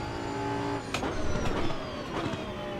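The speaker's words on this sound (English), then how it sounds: "Sounds nice too. That downshift is so nice." A race car in the Assetto Corsa Evo racing game drops through its gears, the engine note blipping sharply on each downshift, about three quick rises in pitch over a steady, fairly quiet engine drone.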